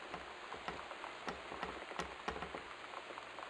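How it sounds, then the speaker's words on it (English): Rain-like patter on glass inside the video game Gone Home, faint scattered ticks and taps at an irregular rhythm with a few sharper drops standing out over a quiet background. "Maybe it's supposed to like sound like rain? Like hitting glass or something?"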